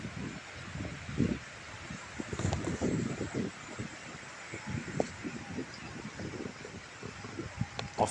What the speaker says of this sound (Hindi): ये देखें ठंडी हवा चलनी शुरू हो गई